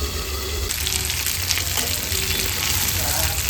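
Basa fish frying in a pan, a dense, close hiss of hot oil sizzling continuously, strong and even, with a few faint clinks.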